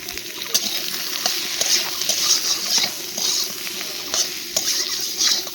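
Eggplant frying in a pan with salt and turmeric is stirred with a utensil, giving a soft, steady sizzle broken by light scraping and clacking strokes against the pan at close range.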